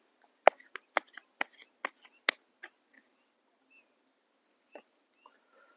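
Tarot cards being shuffled and drawn: a quick run of sharp, crisp card snaps and flicks in the first three seconds, then a few isolated soft taps in a quiet room.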